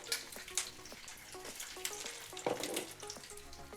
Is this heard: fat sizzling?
yes